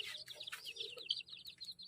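A chicken clucking in short, quick bursts, quiet and a little distant, with no talking.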